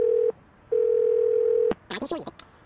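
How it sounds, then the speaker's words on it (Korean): A telephone dial tone from the video game Do Not Feed the Monkeys plays as a steady, loud tone in two stretches separated by a short gap, followed by brief clicking and beeping. "케빈 엘긴한테 일단 전화해볼까?"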